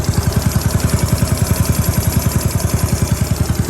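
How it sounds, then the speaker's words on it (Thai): Small motorcycle engine freshly rebuilt with a 53 mm piston and new cylinder on the original head, idling during run-in: a steady, rapid putter of evenly spaced firing pulses, loud and close, with no talk. "ลูกมาทำเพิ่งประกอบเสร็จนะครับ ฟังเสียงหน่อย"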